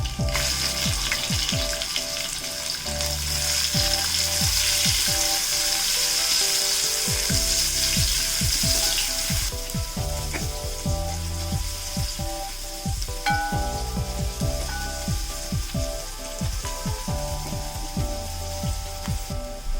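Onions fry loudly in a pan for Kerala-style fried rice, a dense steady sizzle close up with frequent clatter from stirring, and no talk.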